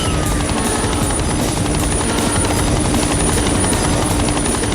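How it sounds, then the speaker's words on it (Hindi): A helicopter roars steadily and close by, its rotor thumping in a fast, even pulse over a constant engine whine, with no voices. "हेलीकॉप्टर की आवाज से कहीं वो तुम्हारी बहन को नुकसान न पहुंचाए।"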